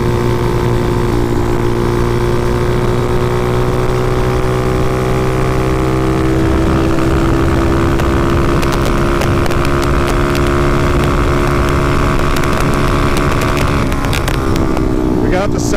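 A motorcycle engine fitted with a 34mm carburetor drones steadily at cruising speed of around 60, with harmonic engine tones and heavy wind rush filling the whole stretch, close and loud.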